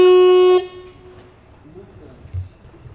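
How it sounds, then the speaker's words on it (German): A short, loud electronic beep from the horn of an IO Hawk eScooter during a function test, one sustained tone lasting about half a second and followed by quiet room noise. "teste dann auch nochmal die Hupe"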